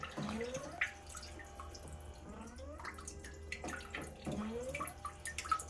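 Water from a smart toilet sprays and splashes into the bowl, with rising gurgling tones and drips, fairly quiet and close, in uneven bursts.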